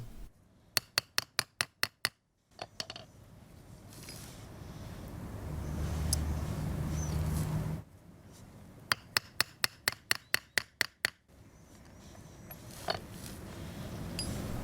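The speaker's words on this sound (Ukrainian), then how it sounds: "в нижній частині робимо вигін несильними ударами молотка" Two bursts of rapid, evenly spaced light hammer taps bending a metal blank for a fishing spoon lure, each a quick run of about eight light blows, separated by a stretch of low rumbling background noise.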